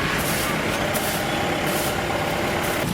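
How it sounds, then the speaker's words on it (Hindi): A truck's engine rumbles steadily at a mass social service clean-up in an Itanagar market, with a broad hiss of air brakes and street noise filling the whole stretch. "उधर से गाड़ी चली आना"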